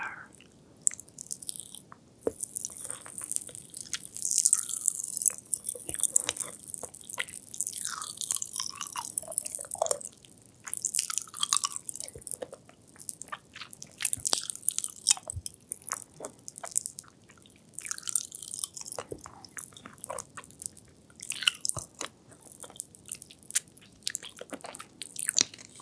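Close-up mouth sounds of someone eating a lollipop coated in popping candy: steady, irregular crackles and crunches with wet bites and chewing, constant and intimate, no talking.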